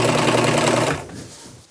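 A sewing machine runs steadily as it stitches fabric for a braided boho beach dress, a loud, close, buzzing motor whir that stops abruptly about halfway through and leaves a faint fading hum.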